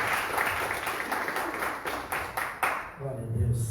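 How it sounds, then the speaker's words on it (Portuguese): Applause from a church congregation, a broad steady wash of clapping hands carrying on for several seconds before it thins out, with some talking mixed in and a voice coming in at the end. "Dê um forte aplauso ao Senhor."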